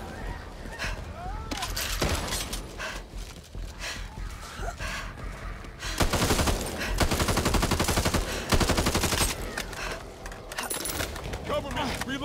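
Bursts of rapid gunfire in the co-op zombie shooter Back 4 Blood, dense and loud with sharper volleys in the middle stretch, mixed with game sound effects and character voices.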